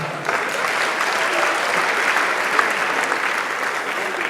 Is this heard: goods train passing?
no